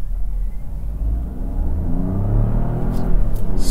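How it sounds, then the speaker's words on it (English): Citroen C5 Aircross Hybrid 136 SUV with a three-cylinder engine, accelerating from inside the cabin: a low, gruff growl that rises steadily in pitch and loudness under power, with road rumble beneath and no talking. "The volume of the engine does raise a bit under power, but because it's got that nice gruff note, that three-cylinder growl, it does sound okay"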